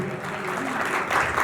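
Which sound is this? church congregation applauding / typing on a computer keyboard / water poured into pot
church congregation applauding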